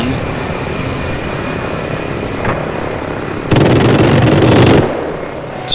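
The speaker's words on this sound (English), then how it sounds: "There's our A-10." An A-10 aircraft in the video game Arma 3 roars past loudly over steady rumbling battle noise, its harsh burst lasting about a second before fading back into the din.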